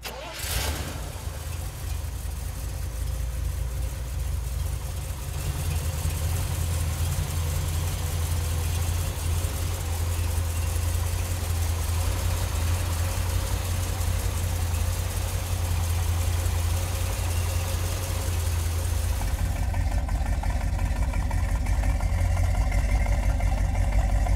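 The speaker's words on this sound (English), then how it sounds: "let's fire this big block up" A 1971 Chevrolet Corvette with a 454 big-block engine cranks and fires up, then settles into a loud, deep, steady idle close by, with a slight change in tone near the end.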